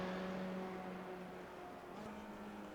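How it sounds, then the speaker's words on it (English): A Formula 3 racing car at Interlagos in a sim racing game lifts off the throttle, its steady engine tone dropping and easing as it coasts, heard at moderate distance. "it sounds like Ben White is actually getting out of the throttle there"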